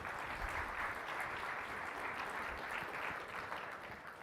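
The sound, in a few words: applause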